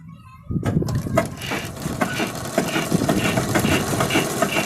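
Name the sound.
industrial sewing machine stitching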